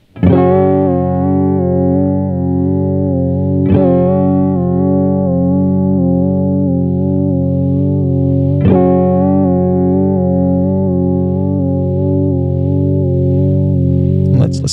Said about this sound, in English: Let's hear a triangle wave real quick.